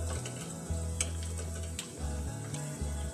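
Onions fry in a hot pan over a medium gas flame, making a soft, steady sizzle with occasional stirring clicks over a low, constant hum.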